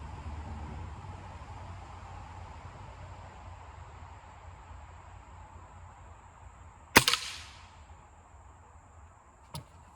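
A Crosman F4 air gun fires a pellet with one sharp, close crack, trailed by a brief hissing decay. A fainter click follows a couple of seconds later over a steady background hiss.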